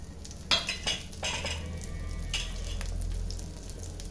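Small shallots fry in a pan with chillies, a soft continuous sizzle broken early by a few sharp clinks and scrapes of a spoon against the pan, with a low hum beneath.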